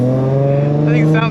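Steady, loud engine drone from an off-road Fiat car idling and revving close by, holding a low buzzing tone with a brief rise in pitch near the end, with someone talking over it.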